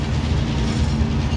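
A continuous rumbling video game train with a steady mechanical rattle, loud and constant throughout, with no voices.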